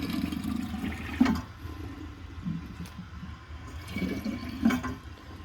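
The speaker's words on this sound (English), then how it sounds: "So this time let's add some water to the bowl." Water poured into the bowl of a 1964 Gerber Mt Vernon toilet during a flush test, giving a close, low splashing and gurgling with two brief louder surges, heard alone.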